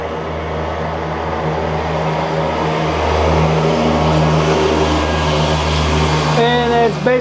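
A car inspector's vehicle rolls past a stopped freight train, its engine drone and tyre rumble rising steadily as it approaches, with a low constant hum underneath and a voice talking over it.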